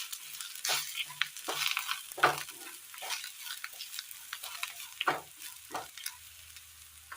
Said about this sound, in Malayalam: എല്ലാം കൂടെ മിക്സ് ചെയ്തെടുക്കാം.